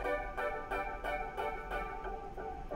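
A steady arpeggiated pluck pattern from the Nexus synth, reverb switched off, notes evenly spaced and fairly dry, playing alone at a moderate level.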